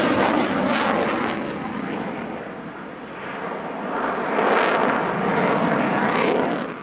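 A Dassault Rafale fighter jet flies a solo display at a military airshow, its loud, rushing engine roar swelling and easing as it passes, with no talk over it.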